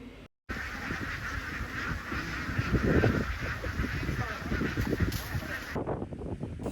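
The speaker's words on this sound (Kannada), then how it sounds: "ನನ್ನ ಲೈಫಲ್ಲಿ ಇಷ್ಟೊಂದು ಬಾತುಕೋಳಿಗಳನ್ನ ಇದೆ ಫಸ್ಟ್ ಟೈಮ್ ನೋಡ್ತಿರೋದು" A large flock of ducks walking in a line outdoors, honking and quacking together in a dense, continuous chorus, fairly close and mixed with busy background noise, briefly cut out near the start.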